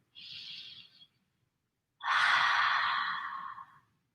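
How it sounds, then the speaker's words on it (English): Deep breathing during a seated yoga twist, heard close and clear: a short, airy inhale, a pause, then a longer, fuller exhale that trails off like a sigh. "Wherever you are, just take a few deep breaths here."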